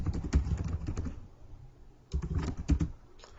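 Typing on a computer keyboard comes as two bursts of rapid, close key clicks separated by a brief quiet pause, crisp and uneven in rhythm.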